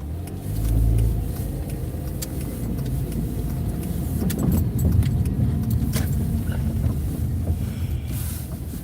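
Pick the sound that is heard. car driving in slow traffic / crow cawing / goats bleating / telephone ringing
car driving in slow traffic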